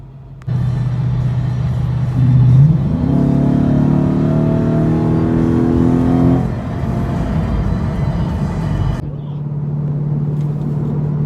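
Car fitted with new 3.73 rear gears driving on a freeway, heard from inside: engine and road rumble swell as it accelerates, hold steady, then ease off to a lower drone near the end.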